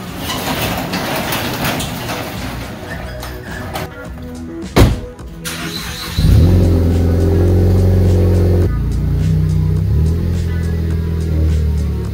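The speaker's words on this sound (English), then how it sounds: "I just gotta pull this thing out of the garage." A Ford Focus ST is driven out of a garage: quiet shuffling and a sharp thunk first, then the engine starts and idles loudly and steadily close by, with a slight change in pitch near the end.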